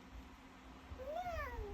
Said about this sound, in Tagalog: What is the sound of cat?